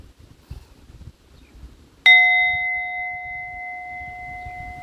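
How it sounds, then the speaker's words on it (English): A single bell is struck once, giving a sharp metallic strike followed by a long, steady ringing tone that slowly fades over quiet low background rumble. "Spirit wants me to ring that bell."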